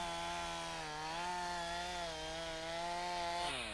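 A chainsaw whines steadily at close range, its pitch dipping and rising slightly as it bites into wood.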